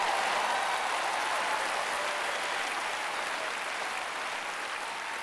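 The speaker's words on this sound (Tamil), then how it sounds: "அவங்க ஒவ்வொருத்தரும் ஒவ்வொரு அழகு அவங்களுக்காக கைத்தட்டுங்க" A large audience applauds continuously at a women's gathering, a steady wash of many hands clapping that fades slightly toward the end.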